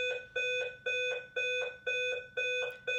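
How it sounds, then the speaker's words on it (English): A building's fire alarm under test, emitting a steady repeating electronic beep pattern of about two pulses per second, each tone sharp and ringing, heard indoors at moderate volume. "They're doing some fire alarm testing in my building"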